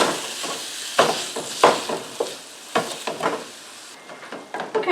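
Ground meat frying in a skillet for one-skillet spaghetti meat sauce, a steady close sizzle broken by repeated scraping stirs as the spatula breaks the meat apart, with no talking.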